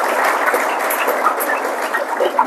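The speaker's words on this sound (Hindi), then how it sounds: "शगुन के लिए एक बार जोरदार ताली हो जाए" Steady crowd clapping from schoolchildren at a school assembly, a dense even patter of many hands held at one level throughout, with no voices over it.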